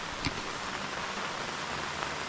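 Steady, faint hiss of rain falling on the way to Napne waterfall, an even wash of drops with no voices over it.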